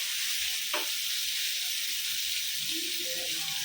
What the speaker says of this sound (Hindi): अभी दूसरी तरफ से 5 मिनट पकाएंगे, फ्राई कर रहे